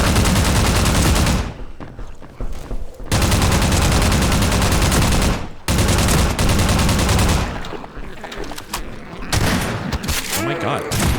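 Dense, loud automatic gunfire rattles from Half-Life 2 in bursts, broken by two brief pauses near the start and middle and turning sparser and choppier toward the end.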